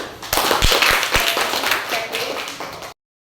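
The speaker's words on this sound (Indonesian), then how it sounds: "Bagus, Ananda Febi, beri tepuk tangan." A classroom of pupils clapping for a student named Febi, a short burst of brisk, close hand claps that cuts off abruptly after about three seconds.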